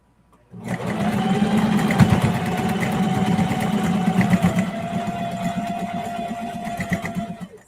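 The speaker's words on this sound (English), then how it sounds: "my sewing machine moves because my table is starting to get a dent in it." Sewing machine stitching clear vinyl, a steady loud mechanical whir with a rapid needle clatter that starts abruptly and runs continuously close to the microphone.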